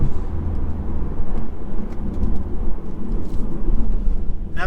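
A 2019 Mercedes C300 with a warm gearbox drives along, its engine and road roar forming a loud, continuous rumble inside the cabin, with faint changes in tone as it shifts gears.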